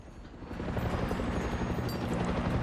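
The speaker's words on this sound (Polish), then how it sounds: "Gdzie jest helikopter?" A helicopter in the video game Far Cry 6 throbs with a dense, steady low rumble and faint rotor pulsing, loud and continuous throughout.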